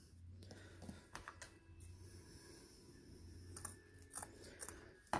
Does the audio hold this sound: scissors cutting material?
yes